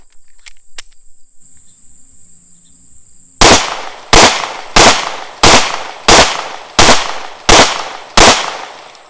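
A Remington R51 pistol fires 124 grain Winchester Ranger +P rounds in eight sharp, loud shots at an even rhythm after a few seconds of near silence with faint clicks.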